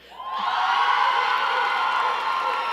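A large crowd at a spring undergraduate commencement ceremony bursts into loud, sustained cheering and whooping that swells quickly and stays high and close for the whole stretch.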